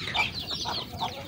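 Backyard chickens cluck in short, repeated bursts close by, a steady run of hen calls with no talk.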